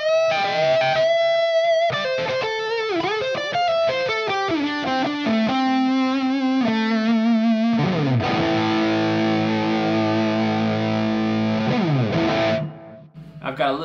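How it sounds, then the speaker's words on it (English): A Woodcraft Bobcat electric guitar played through its bridge pickup with heavy, cranked gain, adding a touch of echo and reverb. It gives loud, continuous distorted riffs and sustained chords, then cuts off abruptly near the end. "this is the bridge pickup, just fully loaded, cranked with tons of gain"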